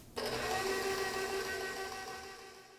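An electric stand mixer runs steadily on peanut butter cookie dough, a continuous motor whir with a faint rhythmic churn that starts abruptly and holds at an even, fairly loud level, easing slightly toward the end.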